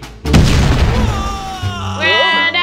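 A firecracker bursts on a birthday cake in the prank game Prankster 3D, a loud boom at the start followed by crackling debris, then chimes and a rising game tone, with voices talking over it.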